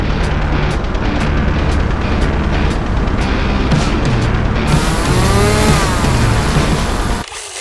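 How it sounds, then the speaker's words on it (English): A mower cuts a path through overgrown vegetation, its engine roaring loud and close with constant rough churning and thrashing, before it cuts off abruptly near the end. "we're going to be cutting back trees and cutting the path through with our mower"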